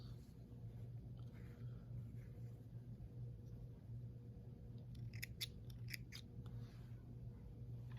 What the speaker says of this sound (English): trim all your threads